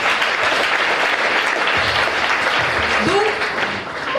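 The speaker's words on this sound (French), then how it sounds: "acclamez pour sa vie" An audience claps and cheers at a church gathering for testimonies of delivered people, a dense and loud wash of applause that lasts throughout and eases slightly at the end.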